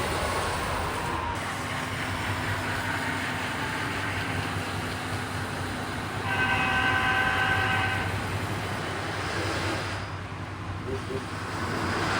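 A steady mechanical rumble with faint rail clatter runs throughout, a small handmade model steam engine humming along a layout, with a brief high whine midway.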